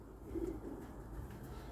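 Racing pigeon in a loft giving a soft, brief coo close by, faint and low.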